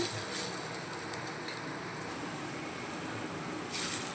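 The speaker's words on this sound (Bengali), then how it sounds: "তেলটাও গরম হয়ে গেছে ধোয়া উঠছে পকোড়াগুলো বসিয়ে দিচ্ছি" Prawn-shell pakoras fry in hot oil with a steady, dense sizzle and crackle that holds at an even level throughout, swelling slightly near the end.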